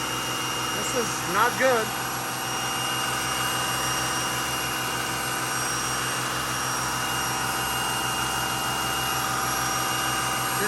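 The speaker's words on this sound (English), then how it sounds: "Now the turbo is making a whining noise." Turbocharger on a 2007 Mercedes Sprinter with a boost fault, a steady high whine over a constant engine drone, with someone speaking briefly near the start.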